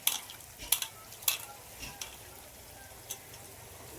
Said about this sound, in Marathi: आता एक वेळ परतून घेऊ.